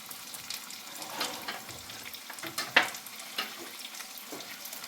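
Tomatoes with ginger garlic paste frying and being stirred in a pan for chicken kadai: a steady soft sizzle under scattered scraping stirs, with one sharper clink of utensil against pan near the middle.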